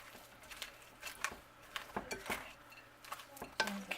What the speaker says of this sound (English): So now, I stir all this up and see